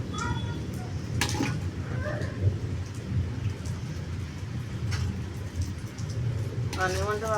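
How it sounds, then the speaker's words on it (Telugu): Steady rain pours down outside during cool wet weather while a kitchen is busy making tangy tamarind rice, a continuous wash of noise with faint rumbles, under voices talking throughout. "వర్షం పడుతుంది కదండి"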